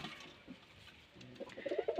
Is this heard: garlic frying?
no